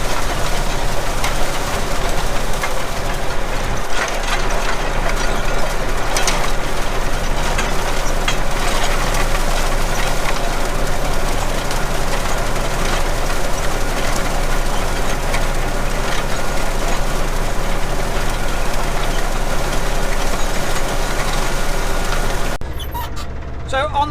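A tractor-driven hay tedder spreading cut silage grass, heard as a loud, continuous engine drone with rattling machinery that runs without a break before dropping off at the end.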